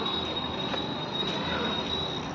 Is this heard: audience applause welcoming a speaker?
no